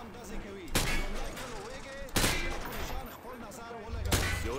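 Loud rifle shots ring out at a shooting range in Call of Duty: Modern Warfare 2, three sharp cracks spaced about a second and a half apart, with voices and game ambience in between.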